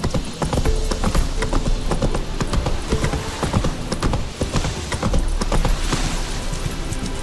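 Roach, a horse in The Witcher 3, gallops in a loud, continuous rhythmic clip-clop of hooves with dense overlapping game sounds and rushing movement throughout, steady and close for several seconds.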